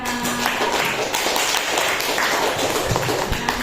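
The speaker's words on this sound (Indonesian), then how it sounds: "Safa ya kasih tepuk tangan dong buat Tasya" A small group claps for a classmate named Tasya, scattered taps and claps mixed with room noise and faint chatter, fairly loud and close throughout.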